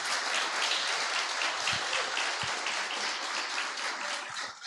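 A church congregation applauds, a broad continuous wash of clapping from many people filling the hall, fairly loud and even, with a couple of low thumps underneath.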